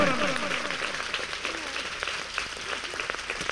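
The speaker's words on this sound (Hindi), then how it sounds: "ताली ताली ताली ताली" A church congregation clapping their hands together, a sustained, dense round of applause filling the room, with a voice speaking over it at the start.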